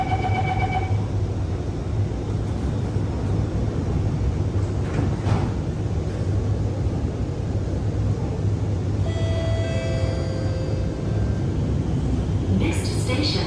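An Alstom Movia R151 metro train heading from Expo toward Changi Airport runs with a steady loud interior rumble and hum, rising and falling tones, and chimes near the end; an onboard announcement voice speaks.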